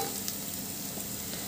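Tomatoes hit golden-brown fried onions in a hot pan, giving a steady, even hiss of sizzling oil that holds without a break for a moment, close and fairly quiet.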